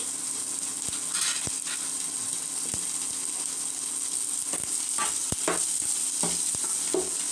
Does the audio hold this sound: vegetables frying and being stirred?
yes